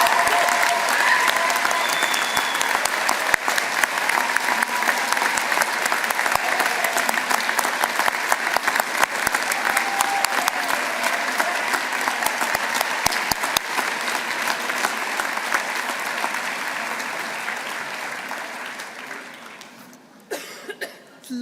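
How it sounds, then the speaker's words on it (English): Graduation ceremony audience breaks into sustained, loud applause for the family and friends gathered there, with scattered coughs, steady for about twenty seconds before tapering off abruptly near the end. "give a huge round of applause to your family and friends gathered here"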